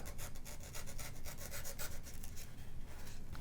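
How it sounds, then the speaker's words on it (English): Blade shaving a small bevel into an aircraft model stringer, close, quiet rhythmic scraping and rasping strokes repeated steadily. "So I'm going to go in here and cut a small bevel."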